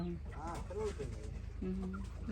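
A rooster brought in for breeding clucks and calls in short bursts close by, while people talk over it throughout.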